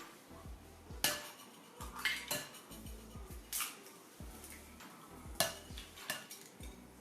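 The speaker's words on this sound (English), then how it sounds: "I'm gonna crack 2 eggs by myself." Eggs are cracked against a bowl edge for a kids' ramen noodle frittata with zucchini, heard as several sharp, close taps spread across the moment, with soft clinks in between and no talking.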